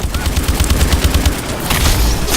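Rapid automatic gunfire fills a zombie-mode match of Call of Duty: Advanced Warfare Exo Zombies, with loud, close, evenly spaced shots rattling out in a continuous burst and a brief heavier blast near the end.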